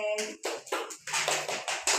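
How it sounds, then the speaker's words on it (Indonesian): A classroom group claps for a correct answer, with a quick run of sharp, close claps in uneven bursts and a brief voice at the start. "tepuk tangan buat Aden"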